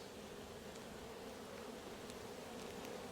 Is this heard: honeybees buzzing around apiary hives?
yes